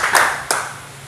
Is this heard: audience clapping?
yes